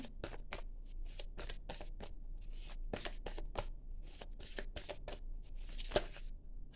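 Tarot cards are shuffled during a reading as a string of soft, quick flicks and riffles at close range in a quiet setting.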